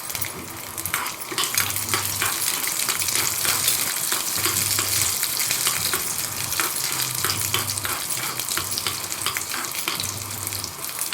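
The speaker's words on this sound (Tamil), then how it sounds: "கடாயை வச்சு கொஞ்சோண்டு எண்ணெய் ஊற்றி இப்போ அந்த பூண்டை வறுத்து அந்த குழம்புல போட்டுருவோம்" Garlic frying in a little oil in a kadai gives a steady, close sizzle and crackle that runs through the whole stretch, with occasional stirring and scraping and no voices.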